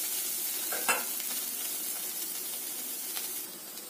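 Jackfruit seeds, mashed, frying in a pan give a constant close sizzle and hiss, broken by a few quick scraping stirs of a spatula, with no talking.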